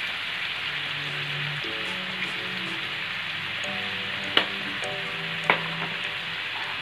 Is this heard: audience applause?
no